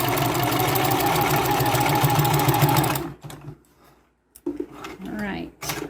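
A sewing machine stitching a quilt seam runs in a fast, even buzz for about three seconds, then stops, leaving quiet handling noises and a voice speaking.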